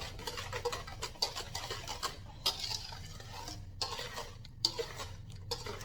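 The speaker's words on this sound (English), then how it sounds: "I like to use a whisk because it gets it in really well." A whisk clinks and scrapes quickly against a bowl while mixing banana bread batter, a soft, busy rhythm of taps and swishes up close, with no talking.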